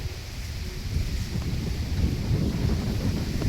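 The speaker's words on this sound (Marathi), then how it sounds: "अरे वारा पण काय येते" Strong gusting wind ahead of the first monsoon rain in Sindhudurg, a loud continuous low roar and rumble buffeting the microphone, with no talk.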